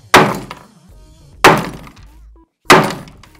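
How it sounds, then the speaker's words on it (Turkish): A fake replica iPhone 11 is struck three times, each blow a sharp loud crack with a brief rattling decay, spaced about a second and a quarter apart with quiet in between. "O kadar vurdun, o kadar kırdın ha."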